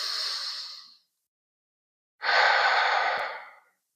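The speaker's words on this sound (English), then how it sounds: "We'll take a deep cleansing breath" Two long, deep breaths taken slowly in a yoga session, one a soft exhale that tails off and the other a fuller in-and-out breath after a short silence, close to the microphone with no talking.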